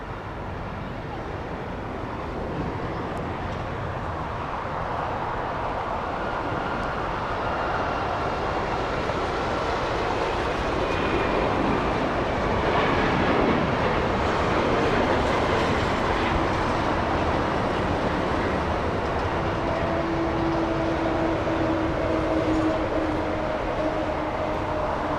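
An SAS Airbus A330 airliner taxiing at Los Angeles International Airport, a broad, sustained roar of jet engines that swells slowly and holds steady at a distance, with faint tonal whines rising over it.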